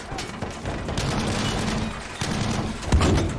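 Gunfire in Battlefield V, a World War II shooter: dense, continuous rattling shots with heavier booming thumps, including a loud hit near the end, over a busy battlefield din.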